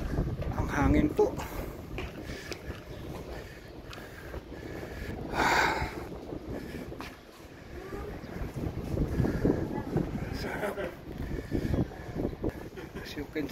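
Strong wind blowing at the top of a pagoda at Lotus Pond, buffeting the microphone with rumbling gusts and roaring surges while people talk over it throughout.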